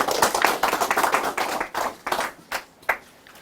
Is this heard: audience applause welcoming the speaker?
yes